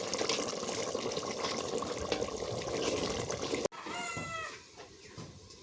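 Water pours steadily into a cooking pot of rooster chicken and chickpea curry, a loud, continuous splashing rush that stops abruptly, after which a cat-like meowing follows.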